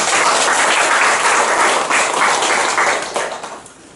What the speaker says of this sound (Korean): 우리 박수로 하나님께 영광을 올려드리겠습니다